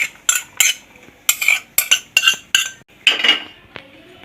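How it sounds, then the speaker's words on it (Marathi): Sago pearls are mixed in a large metal plate, giving about ten brisk, rattling scrape-and-clink strokes in an uneven rhythm, close and fairly loud. "हे जे साबुदाणे आहेत ना ते आता इथे परातीत घेऊन घेते, म्हणजे छान आपल्याला मिक्स करता येईल."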